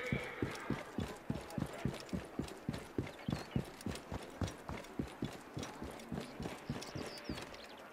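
A horse gallops steadily in the video game Assassin's Creed Origins, its hooves thudding in a fast, even rhythm throughout, moderately close, with a faint background ambience and no talk.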